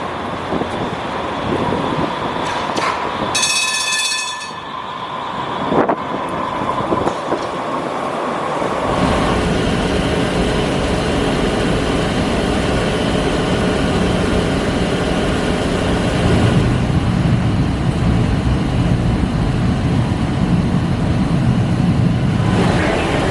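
Muni T line light rail train in San Francisco rolling along with a steady loud rumble and rattle, a brief burst of squealing tones early on, then continuous close-up running noise.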